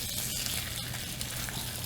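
Food sizzles steadily in a hot pan, a dense crackling hiss, close up and continuous, with no talking over it.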